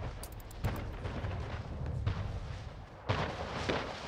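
Dense, continuous naval cannon and gunfire from a ship battle in the strategy game Anno, rumbling booms layered without pause, with a sharp fresh burst near the end; no talking.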